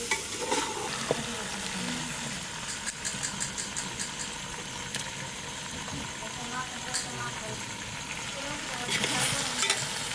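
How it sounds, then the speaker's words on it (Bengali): Goat mutton fries in oil as it is stirred for kosha, with rhythmic scraping strokes over a constant close sizzle and occasional clatters. A voice murmurs faintly in the background. "মাংস থেকে তেল ছেড়ে দিয়েছে, দারুণ কষা হয়েছে"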